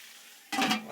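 Onions added to a hot stir-fry pan burst into a sudden loud sizzle after half a second of near silence, close and bright.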